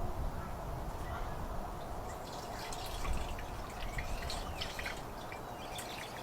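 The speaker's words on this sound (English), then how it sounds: "We're going to pour it all on the bike." Straight diesel fuel, about two gallons from a five-gallon jug, glugs and splashes as it is poured onto a two-stroke dirt bike. A steady close trickle with faint dripping runs throughout, and there is no talk.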